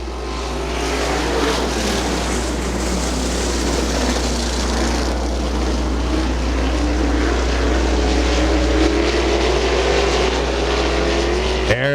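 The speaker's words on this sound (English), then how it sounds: "wave at the plane flying over" A propeller plane flying over a dirt-track sprint car race at Butler Motor Speedway, a steady droning engine with a slowly rising pitch, joined by a constant low hum throughout and faint background noise from the track.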